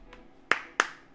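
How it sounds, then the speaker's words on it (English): Two light hand claps from a character in a visual novel video game, crisp and close, spaced about a third of a second apart, with no talking. "claps his hands together lightly to draw our attention"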